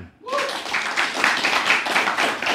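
Audience clapping at a religious study gathering starts abruptly after a short pause and carries on as a dense, steady patter, with brief vocal tones near the start.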